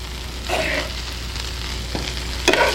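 Sliced potatoes and vegetables frying in a heavy enamelled pan, a steady close sizzle with a few brief clatters of utensils stirring or ladling.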